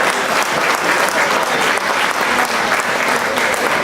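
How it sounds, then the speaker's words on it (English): Gala dinner crowd at a chamber of commerce event in Negril applauding the chefs, with loud, close, sustained clapping from many hands and no pause. "Ladies and gentlemen, a round of applause for the chefs."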